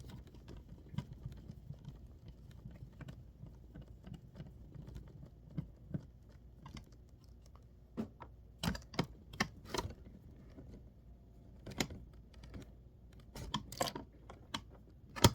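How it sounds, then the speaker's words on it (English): Torx screws being worked out of a laptop during a repair, sounding as a run of small sharp clicks and ticks from the screwdriver and loose screws, close and irregular, with a few louder taps bunched near the end. "Let's continue removing these painful Torx screws."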